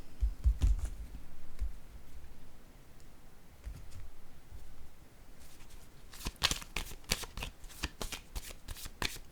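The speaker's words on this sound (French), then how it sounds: "Attendez, je vais piger une autre carte." Playing cards shuffled in a quick riffle of crisp, rapid flutters, close and fairly loud, following quieter handling sounds earlier.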